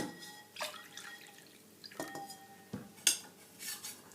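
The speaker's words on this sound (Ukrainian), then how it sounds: "Це в нас місо-суп. І я ось так його набираю." Miso soup with seaweed being ladled with a spoon from a pot at breakfast, several distinct metallic clinks and scrapes with soft liquid drips between them, close and fairly quiet.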